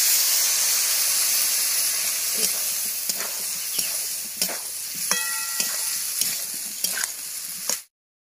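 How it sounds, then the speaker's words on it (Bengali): Fried snails and yam being cooked down in spice masala in a village-style kitchen, a constant hissing sizzle with regular stirring scrapes, ending abruptly. "এবার ভেজে রাখা গুগলি আর মেটে আলুটা দিয়ে দিলাম মশলার মধ্যে। আরো কিছুক্ষণ কষিয়ে নেব মশলার সঙ্গে।"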